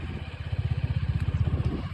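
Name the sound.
motorcycle engine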